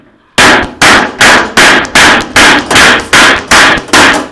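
Repeated hammer blows on an empty metal oil tin being cut open, eleven loud, sharp metallic strikes at a steady rhythm about twice per second, close by with no talk.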